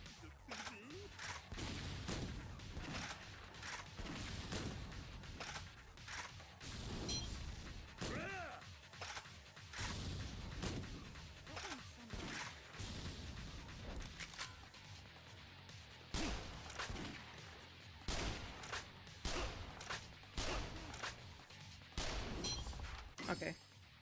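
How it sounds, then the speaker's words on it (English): Grenade launcher fire in Yakuza: Dead Souls produces repeated sharp blasts and crashes at an irregular pace, with a voice talking between the hits. "So we're gonna try to just use the grenade launcher as much as possible."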